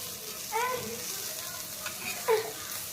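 Raw banana pieces fry in oil in a pan, giving a steady, moderate sizzle with a couple of brief clinks or stirring touches, and no voice heard.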